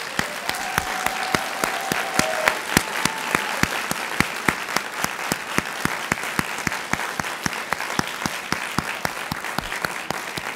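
Sustained applause fills a doctoral hooding ceremony hall as the audience claps for the faculty, many hands forming a steady dense patter with sharp individual claps standing out, moderately loud and without talk.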